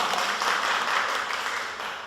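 At a holiday talent contest, the audience gives a contestant a steady wash of applause, dense and even throughout, with no voices standing out.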